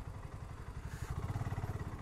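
A BSA Gold Star 650 motorcycle rides over rough off-road ground, its engine and exhaust giving a steady low throbbing pulse that grows louder and more rhythmic near the end.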